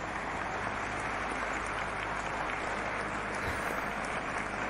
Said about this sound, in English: An applause, ladies and gentlemen, for Wildcrace.